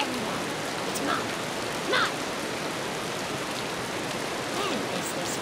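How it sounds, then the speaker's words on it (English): Rain in the PS2 game Raw Danger falls as a constant dense patter with scattered louder droplet splashes and no voices. "When is this friggin' rain gonna stop?"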